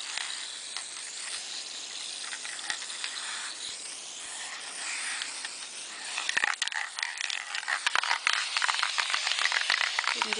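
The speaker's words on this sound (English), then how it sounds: "I'm going to show you spray lacquering and the change it makes." Spray lacquer released from an aerosol can onto antler disk pendants in short light bursts, close hissing spurts growing denser toward the end, with soft speech at times.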